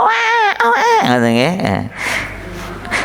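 A person's voice imitates a crying infant: a loud, wavering, high-pitched wail that rises and falls, then trails into softer breathy, babbling sounds.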